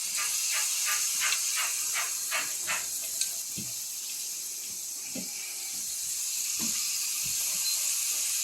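Dough ribbons for Christmas baking frying in hot oil, a steady broad hiss throughout with soft bubbling and a few light clicks and taps near the cook.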